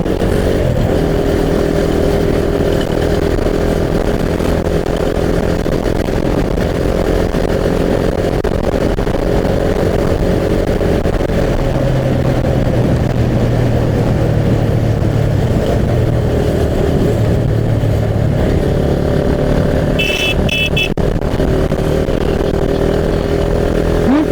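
A motorcycle ridden along a road between Jampang Kulon and Jayanti, its engine droning steadily and close throughout, with a faint higher whine near the end and no talk.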